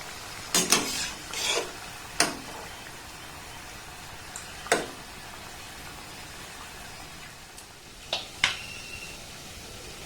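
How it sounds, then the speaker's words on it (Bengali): Nimki, crisp flaky flour pastries, frying in hot oil with a soft continuous hiss, broken by a few sharp scrapes and knocks of a slotted spoon turning and lifting them. "এইভাবে আমি কিন্তু সবগুলোকে সুন্দর করে ভেজে নেব"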